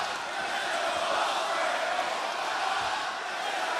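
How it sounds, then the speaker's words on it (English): A wrestling arena crowd cheers steadily, a dense, continuous roar of fans urging on a worn-down competitor, holding at an even level throughout with no clear breaks. "Fans trying to cheer Ospreay on, motivate him."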